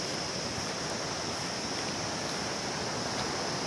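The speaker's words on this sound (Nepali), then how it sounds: "झर्ना देखाउँछ है त म" A waterfall on a mountain stream gives a steady, unbroken roar of falling water, loud and close, with no voices.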